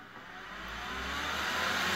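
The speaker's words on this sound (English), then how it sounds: "the next control test that I want to run is to have the fan on" A fan switched on by remote, running loudly and blowing a strong stream of air; a steady broadband whoosh and hum holds close and grows slightly louder throughout, with no voices.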